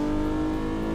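A video-game car rumbles with a steady low exhaust burble under acceleration, a dense constant engine drone over one unbroken second.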